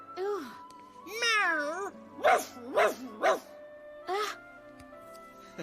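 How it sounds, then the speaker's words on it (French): A cartoon dog in an animated Barbie princess film gives a few yappy barks and whimpering vocal sounds, close and loud, mixed with playful animal cries against a soft music bed. "J'espère qu'il aboie plus fort qu'il ne mord."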